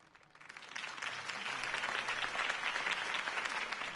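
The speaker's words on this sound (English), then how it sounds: "If only Mr. Wayne, my campaign's largest backer, could have heard that applause" A crowd in a Batman video game applauds after a campaign speech, the clapping swelling from faint to a steady, dense roar that carries on throughout.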